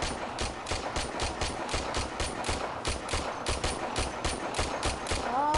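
Rapid automatic gunfire from a weapon in the video game Warframe, a steady stream of sharp, evenly spaced shots that continues throughout.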